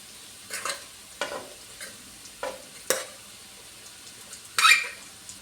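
Cooked rice is tossed in a hot pan for chicken fried rice. About six spaced scraping stir strokes sound close against a faint sizzle, with no talking.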